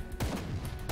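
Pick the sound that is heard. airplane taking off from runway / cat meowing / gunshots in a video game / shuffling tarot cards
gunshots in a video game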